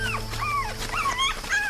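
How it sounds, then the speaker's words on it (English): A young pup cries in high, urgent whimpers and yips, several rising and falling wails in quick succession, close and loud over a steady low hum. "The pup cries high and urgent."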